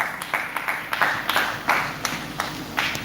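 Audience clapping at a church-style wellness talk, a sparse and uneven run of separate claps close by, with a faint voice underneath.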